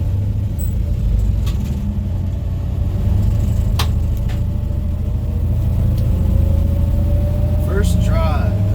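An LS-swapped 1964 Impala drives along, its engine a steady low rumble with road noise throughout and a few light clicks and rattles, heard from inside the car.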